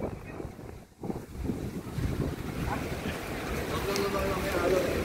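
Wind blowing hard across a boat on open water, a constant rushing roar of wind buffeting the microphone with wave wash beneath, fairly quiet overall, with voices speaking faintly under it.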